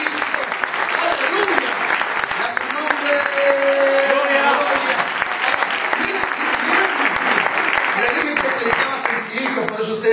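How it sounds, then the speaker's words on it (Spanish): A church congregation bursts into loud, sustained applause that fills the room steadily for the whole stretch, with voices shouting and talking underneath. "Denle un aplauso fuerte a su Señor."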